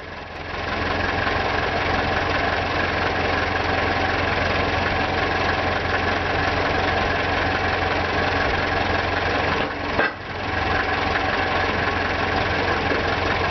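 A Freightliner FL50 truck engine idles steadily and loudly up close, a low, even diesel rumble with a faint knock that holds throughout, briefly dipping once near the end.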